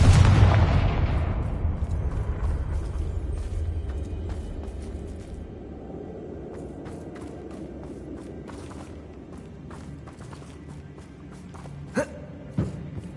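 A fiery Confringo spell explodes in Hogwarts Legacy during a fight with Ranrock loyalists: one loud, close boom decays into a long rumbling tail, followed near the end by a couple of sharp, brief pops.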